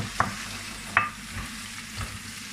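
Soft continuous sizzling of chopped onions sautéing in oil, with occasional clinks of a utensil against the pan, two sharp taps standing out; no voices.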